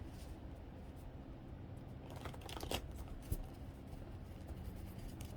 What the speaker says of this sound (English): these note cards don't like to shuffle very well